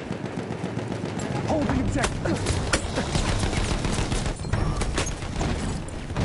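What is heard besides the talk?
gunfire in the video game Battlefield 1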